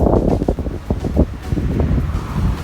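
Strong wind buffets the microphone outdoors near a park, a continuous low roaring rumble with gusty surges throughout, loud and close with no talking.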